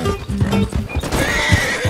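A horse in Red Dead Redemption 2 neighs and whinnies loudly and close, with clip-clop hoof steps mixed in over roughly two seconds.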